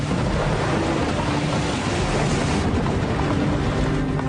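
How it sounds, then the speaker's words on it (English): Heavy thunderstorm battering an airport in Toronto during a brutal summer storm, with a steady loud roar of wind and rain and low rumbling filling the whole stretch without a break. "Winds and lightning are hammering the airport, making it tense for incoming planes"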